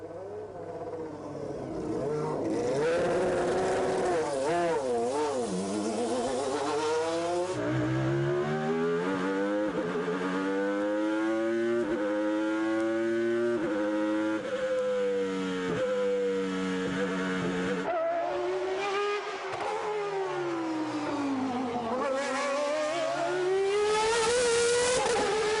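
A Renault Espace F1 with a Formula One engine screams loudly at high revs on a race track, climbing and dropping in pitch through repeated gear changes as it passes close by.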